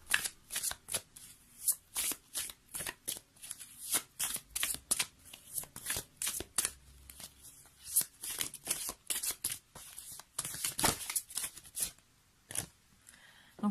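Tarot cards shuffled by hand in steady, rapid riffles and slaps, close and crisp, with short pauses between bursts and no speech.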